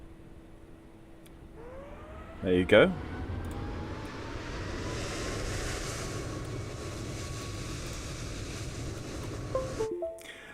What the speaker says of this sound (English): we're going to be inundated with all sorts of engine noises